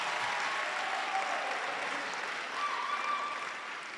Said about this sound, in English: Can we first clap for our guests when I get to our guests?